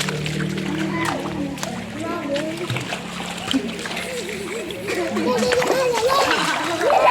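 People splash and bathe in spring water at Kansanto Spring, with steady sloshing and splatters throughout, overlapping voices and children's chatter in the background.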